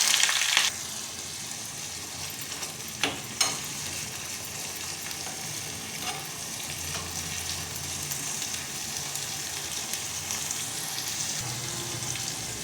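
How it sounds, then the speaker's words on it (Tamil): Shallots and crushed ginger sautéing in a pan on a slow flame with mustard seeds, urad dal and dried red chillies, a steady low sizzle with a couple of sharp clinks early on, no voices. "ஸ்லோ ஃப்ளேமில் வச்சு பச்சை வாசம் போக நல்லா வதங்கணும்"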